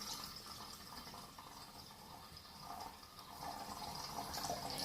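Water pours steadily from a jug into the tank of a carpet steam cleaner, a quiet continuous trickling and filling that swells slightly toward the end.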